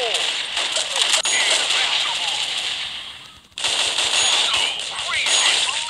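Rapid automatic gunfire in the video game Crisis Action rattles in long bursts, with a brief pause midway before the shooting resumes, loud and close with game-like sharpness.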